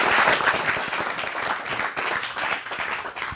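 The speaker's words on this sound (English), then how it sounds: "Round of applause for contestant number 2." Audience applause for a contestant at a crypto pitch competition show, a dense steady burst of many hands clapping that fills the whole moment and thins slightly toward the end.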